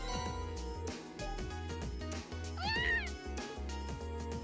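A cat in the video game Trails of Cold Steel gives a single rising-and-falling meow, clear and close, over steady background game music.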